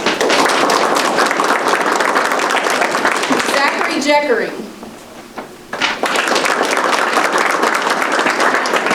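An audience at a school board meeting applauds students, sustained clapping that fades into a brief pause before the applause swells again, with a voice speaking over the crowd.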